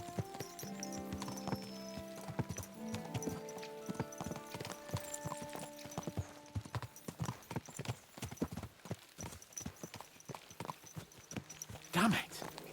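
Horse hooves clip-clop in a steady galloping rhythm throughout, with a short whinny near the end, all set against music and game ambience in a video game horse ride.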